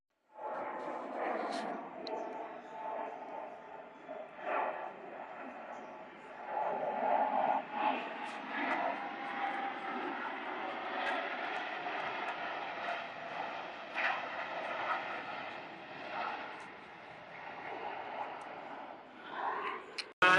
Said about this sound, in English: as Sean rolls his airplane to Airshow right